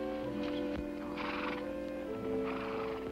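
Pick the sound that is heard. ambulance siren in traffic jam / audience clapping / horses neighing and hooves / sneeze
horses neighing and hooves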